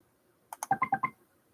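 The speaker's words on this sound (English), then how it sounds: "There's typing sounds." Computer keyboard keys tapped in a quick burst of about six crisp clicks, close and moderately loud, alone in an otherwise quiet room.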